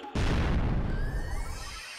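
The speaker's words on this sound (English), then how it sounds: "That's a loud explosion." A loud, booming explosion in the Sonic Heroes video game bursts in suddenly and rumbles on, slowly fading, with a thin rising tone above it and no talking.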